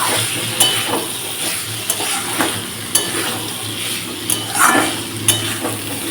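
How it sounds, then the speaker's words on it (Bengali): Spice paste of ground coriander and cumin fries in oil for a cauliflower, potato and fish curry, a soft sizzle broken by repeated utensil scrapes and clinks against the pot, close up and without speech. "আমি এটা ভালোভাবে নাড়াচাড়া দেবো"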